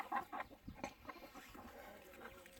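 A chicken clucks close by in a few short, quick bursts, faint overall, with soft rustling and handling noise between the calls.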